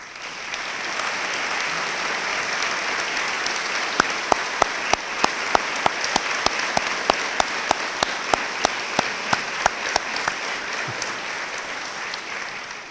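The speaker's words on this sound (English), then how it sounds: "to please stand for a round of applause" An audience at a 2015 convocation stands and applauds. Steady crowd applause continues throughout, with sharp, evenly spaced claps that keep a regular rhythm through the middle.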